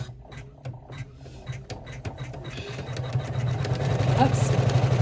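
An embroidery machine runs a bean stitch on an in-the-hoop appliqué bag with vinyl, starting with scattered clicks and building into a steady, close mechanical whir. A person talks over it.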